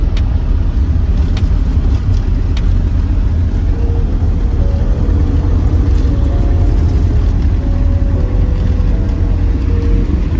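A shared taxi drives through Cuba, its engine and road noise forming a constant, loud low roar from inside the car with no letup.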